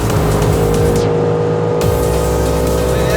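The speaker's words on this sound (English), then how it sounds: "Full throttle, RS6 Performance, it's tuned. Hit it." A tuned Audi RS6 Performance pulling hard at full throttle, a loud continuous engine roar that drops briefly at a gear change before climbing again, close and sustained.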